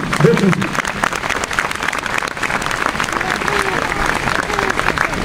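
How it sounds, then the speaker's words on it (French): A crowd at an archery hunting event applauds steadily throughout, dense clapping under a voice speaking over it. "ça mérite déjà beaucoup d'applaudissements"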